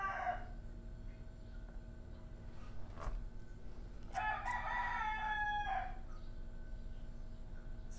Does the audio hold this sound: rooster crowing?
yes